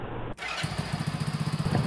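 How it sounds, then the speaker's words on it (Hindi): A motorcycle engine cranks and starts easily in dry conditions after rain trouble, settling into a steady, close, rhythmic putter that grows slightly louder, with no talk. "अभी आप देख सकते हैं कि बाइक सूखी होने के कारण आसानी से स्टार्ट हो जाती है"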